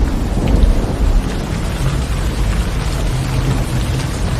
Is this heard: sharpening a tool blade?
no